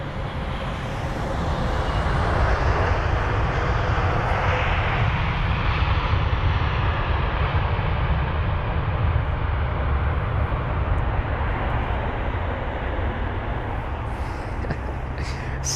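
At London Heathrow, a jet aircraft's engines roar in a loud, sustained, broadband rush as it arrives. The rumble swells slightly and holds steady throughout.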